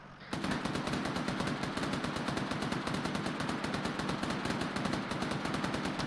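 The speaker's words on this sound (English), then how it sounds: "I'm unable to hear you over gunfire." Sustained rapid machine gun fire, a steady rattling stream of shots that continues without pause, fairly distant and loud.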